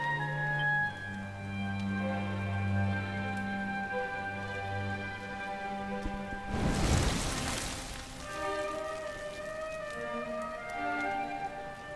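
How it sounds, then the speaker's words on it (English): Steady rain falls in the Dragon Quest video game, a continuous hiss under background music with a brief louder swell of downpour midway. "Looks like the rain's dying down."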